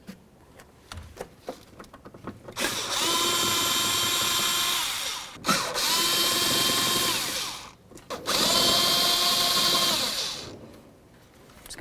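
A power screwdriver backs T20 screws out of the wiper pulse board cover on a Chevy C/K truck, whirring steadily in three close, sustained runs separated by brief pauses.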